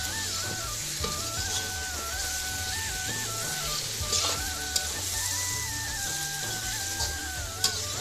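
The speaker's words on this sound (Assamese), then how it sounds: "মাংস দি ঢালিলে কেৰাহীত গোটেইখিনি মাংস" About a kilogram of homegrown local chicken meat sizzling and frying in a wok, a continuous crackling hiss with occasional louder pops and faint tonal sounds in the background, no talking.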